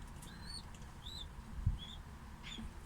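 A male pigeon close by gives a few short chirpy calls over a low steady background hum, with one soft thump partway through.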